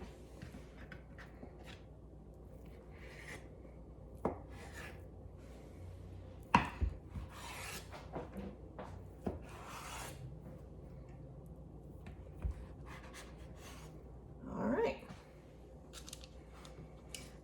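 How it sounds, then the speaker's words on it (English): A knife cuts through flattened scone dough on a board, making scattered light taps and soft scraping strokes at close range, with a few sharper knocks among quieter stretches. "cut them into 6 wedges each. Use a sharp knife or a pizza cutter"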